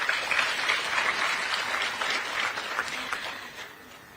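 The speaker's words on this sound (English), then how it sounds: "A round of applause for the President." An audience at a provincial government event in Zambia applauds the President, a steady roomful of clapping that rises and falls slightly, with no speech.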